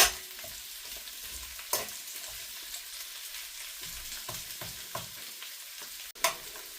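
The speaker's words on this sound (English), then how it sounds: "we cook these onions until they're soft" Onions soften in a frying pan, sizzling quietly while a utensil stirs them, giving a few faint scrapes and taps over the low, steady fry.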